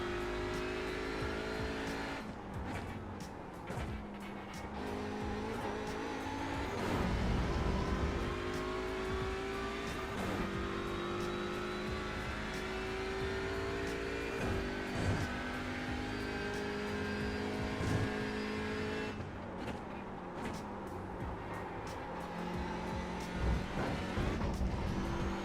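An Audi touring car racing at Sebring in iRacing, its engine droning loudly and continuously with repeated rising revs and gear-change dips, heard alone for the whole stretch.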